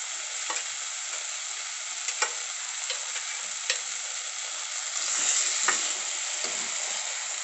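Fried hilsa fish head being stirred into taro leaves in a pan, a soft continuous sizzle broken by a few sharp spatula clicks and scrapes, with the frying swelling slightly near the end.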